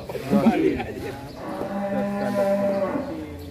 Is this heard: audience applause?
no